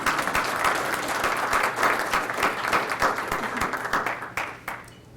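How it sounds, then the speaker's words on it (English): An audience at an association meeting gives a round of applause, a dense patter of many hands clapping for about five seconds before thinning out near the end. "Let's give her a round of applause."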